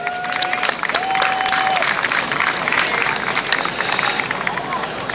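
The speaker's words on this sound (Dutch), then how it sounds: "Daar wil ik graag een applaus voor." Audience applause at a Limburg schutterij (marksmen's guild) festival on its opening day, a dense, steady clatter of many hands lasting several seconds, mixed with crowd hubbub and a faint thin tonal whine.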